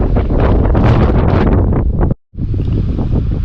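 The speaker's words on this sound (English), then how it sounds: "Oh man, you can hear that wind." Strong, steady wind roars outdoors across a field during metal detecting, buffeting the microphone continuously with a brief dropout near the end before the gusting resumes.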